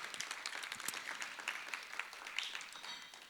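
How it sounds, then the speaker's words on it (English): Audience applause at a film festival talk event in Munich, a steady crowd clapping that fills the whole stretch at moderate level without voices. "a big applause"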